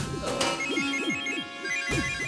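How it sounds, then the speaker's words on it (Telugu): A telephone rings with a melodic electronic ringtone in a TV drama scene, playing a repeating pattern of swooping tones and bright chimes, steady and fairly quiet with no talk over it. "ఫోన్ మోగుతుంది చూసారా"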